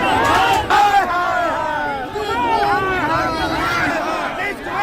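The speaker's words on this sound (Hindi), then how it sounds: "नियोजित शिक्षकों ने सरकार विरोधी नारे लगाए" A crowd of contract teachers chants anti-government slogans at a torch march in Bihar, many voices rising and falling in loud, continuous rhythmic shouts close by.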